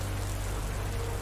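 Steady rain falls in a dense, even hiss that stays constant and fairly loud throughout the short stretch, with no voices or other sounds over it.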